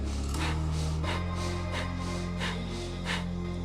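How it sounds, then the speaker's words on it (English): Breath of fire breathwork at full tempo, with about eight quick, forceful, rhythmic exhales through the nose, close and moderately loud over a steady low hum. "breath of fire is pretty simple in that you're breathing into your hand"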